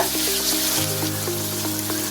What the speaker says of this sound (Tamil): ஒரே ஒரு வெங்காயம் பொடி பொடியா நறுக்கி வச்சிருக்கேன், அதை போடுறேன்.